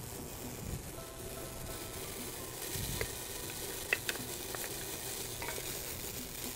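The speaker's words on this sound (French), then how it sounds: "je vais faire chauffer mon huile et je vais faire rissoler mon céleri et mon oignon" Celery and onion sizzle and fry in hot oil in a heavy-bottomed pan, a steady quiet crackle with a few brief clicks of stirring, no voices.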